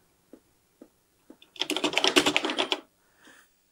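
Keys clatter on a Radio Shack TRS-80 Color Computer keyboard, a few isolated taps followed by a rapid, dense burst of typing lasting about a second, close and clear with no speech.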